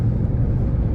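A car travels steadily on the road into Pattaya from Bangkok, heard from inside as a loud, constant low rumble with no talk.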